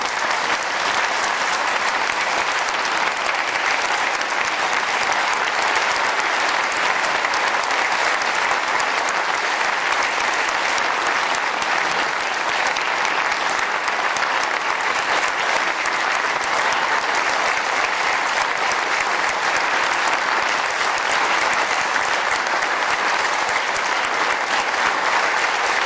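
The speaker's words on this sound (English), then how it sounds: "We'll give you a round of applause" A large State of the State audience gives sustained applause to nursing home staff standing to be recognized, producing a dense, steady wall of clapping that fills the hall for nearly half a minute without letting up.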